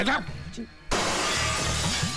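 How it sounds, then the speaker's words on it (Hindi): A glass window in a house shatters partway through with a sudden loud crash and a spray of breaking shards, while people talk and shout over it. "तेरे लड़के ने फिर से मेरे घर का कांच तोड़ दिया"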